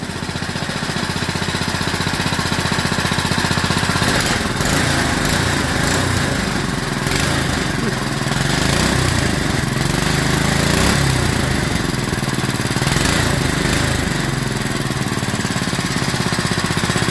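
Duromax 208cc engine on a Coleman CT200U mini bike running loud and close, a continuous rough, buzzing drone that rises and falls slightly with throttle, no speech over it.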